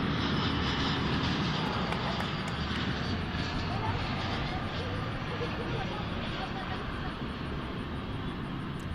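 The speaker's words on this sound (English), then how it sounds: "But there is a Dreamliner." A Boeing Dreamliner airliner at DFW International Airport gives a steady, broad jet roar, constant and fairly distant, for the whole stretch with no break.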